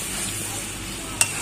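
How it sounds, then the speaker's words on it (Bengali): Yogurt-coated potatoes are stirred into a spice paste frying in oil on a clay stove, producing a continuous soft sizzle, then one sharp clack of a utensil against the pan near the end. "আলুগুলো মশলায় ঢেলে দিলাম। এবার নাড়াচাড়া করে নেব।"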